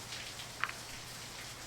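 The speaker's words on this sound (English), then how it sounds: "It's raining pretty heavily outside." Heavy rain falls steadily in the video game Angels with Scaly Wings, a dense even hiss with one brief louder drop or tap about halfway through, and no talk.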